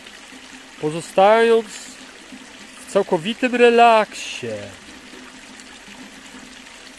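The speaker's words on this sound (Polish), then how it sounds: "skup się na dźwięku potoku," A gently flowing stream runs as a soft, steady background wash throughout a guided relaxation session. A calm voice speaks over it in a few short phrases.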